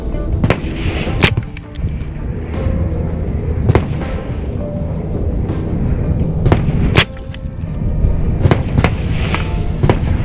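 A Hatsan Blitz air rifle shoots 42 grain powder-coated slugs, giving several sharp, loud cracks spaced irregularly over steady background noise.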